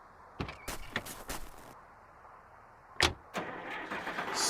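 A vehicle engine starts in the adventure game Runaway 2: The Dream of the Turtle, with a run of sharp mechanical clunks and rattles, a pause, then a loud catch that settles into a steady running rumble.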